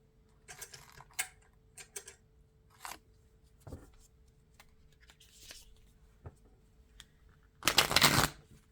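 Oracle cards shuffled by hand in a quiet room, scattered soft riffling flicks and taps spread across the span, ending in a louder, denser burst of shuffling, close and fairly faint otherwise.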